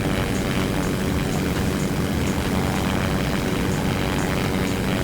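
A propeller plane drones steadily in Simple Planes, a loud, dense engine roar that holds even and unbroken the whole time with no voices over it.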